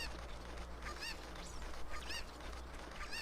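A chicken stuck in a box squawks in the video game Ocarina of Time 3D, several faint, muffled honking cries spread across a steady low background drone.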